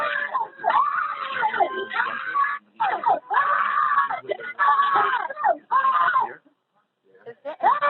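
People scream on a recorded 911 emergency call, a series of loud, strained, wailing cries in separate bursts broken by short gaps, heard over a narrow telephone line.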